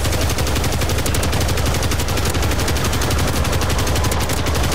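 M240 machine gun firing in Call of Duty MWZ, a loud, unbroken rapid stream of automatic shots that fills the whole stretch with dense, rattling gunfire.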